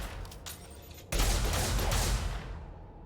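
Gunfire rings out in Mass Effect 2: quiet rattling shots at first, then a sudden loud burst of rapid firing that holds for over a second before trailing off.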